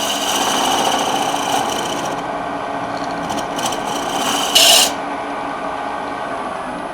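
A hollowing cutter carves wood on a spinning lathe: a steady scraping grind over a motor hum, with short bursts of sharper chatter and one brief loud scrape near the end.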